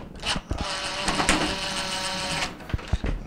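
Power drill backing Phillips screws out of a GE oven: a close, steady buzzing whir lasting about two seconds, bracketed by short clicks and clunks of handling.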